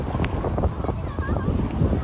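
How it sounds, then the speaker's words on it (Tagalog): A strong wind blows at the seaside in Salmiya, Kuwait, rumbling loudly across the microphone, with faint surf in the background and people talking nearby. "ang lakas ng hangin"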